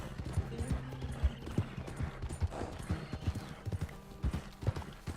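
In Red Dead Redemption 2 Online, a horse's hooves give a steady clip-clop at a trot, close and rhythmic, with a brief whinny blended in and someone talking over the riding.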